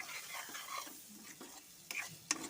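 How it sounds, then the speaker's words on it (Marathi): Peas and potatoes fry in spiced masala in a pan, soft sizzling under intermittent stirring scrapes and a couple of light utensil clinks, close and quiet. "पहिले त्याचे वटाणे आणि बटाटी जरा फ्राय करून घ्यायचे आपल्याला"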